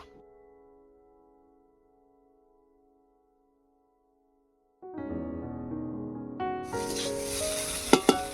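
Home-cooked egg chow mein frying in a pan, a faint hum giving way to a steady sizzle and hiss with a few sharp clacks of stirring near the end.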